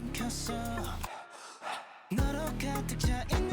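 Breathy gasps and exhales sit inside a K-pop track, set against electronic backing, with one exposed stretch of bare breath between the louder musical passages.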